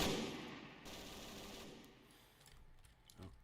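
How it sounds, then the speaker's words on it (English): Gunfire sound effect from an online wargame, a rapid burst of close, rattling shots at the start fading into quieter scattered reports and a few distant cracks. "There were some bullets fired that got pretty close to you."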